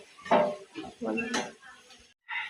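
Fried lentil fritters are lifted onto a plate, with close metallic scrapes and light clinks of a utensil against the pan and plate in a few short bursts.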